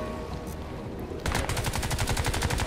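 Rapid automatic gunfire in the video game Crysis 2, starting abruptly after a quieter lead-in and continuing as a dense, loud burst of evenly spaced shots.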